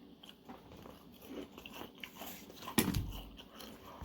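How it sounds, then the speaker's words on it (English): Crunchy fried calamari being bitten and chewed close to the microphone, with soft chewing and a sharp loud crunch near the end, no talking. "It's beautiful, crunchy. Hear the crunch?"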